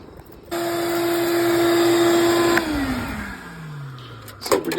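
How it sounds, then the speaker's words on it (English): A vacuum cleaner sucks a string with a scrap of bag through underground electrical conduit, its steady whine droning loudly, then abruptly shifting and falling in pitch as the load changes, before a few clattering knocks. "I heard the vacuum cleaner change sound."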